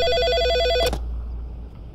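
A telephone rings in the video game Always Sometimes Monsters: a single electronic ring burst that cuts off after about a second, leaving quiet ambience.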